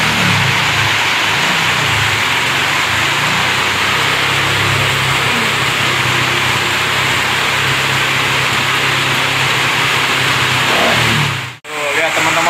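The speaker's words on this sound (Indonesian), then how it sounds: "Tetap digember motornya beberapa kali, kurang lebih 10 kali setelah dituning" A tuned 2014 Honda Blade motorcycle engine runs close by, loud and continuous, its note rising and falling as the throttle is blipped repeatedly, ending with a brief abrupt cutoff near the end.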